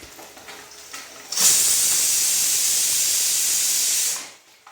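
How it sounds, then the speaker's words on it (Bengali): A big crab fries in a hot pan at home, giving a loud, steady hiss that starts abruptly, holds for about three seconds, then fades away. "এখন বড় কাঁকড়াটা ভাজছি"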